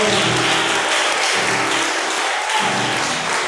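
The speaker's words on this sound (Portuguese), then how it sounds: "Dê aplauso ao Senhor" A church congregation at a Sunday service applauds in a steady, dense wash of clapping that fills the whole stretch at a fairly even loudness, with faint low tones beneath.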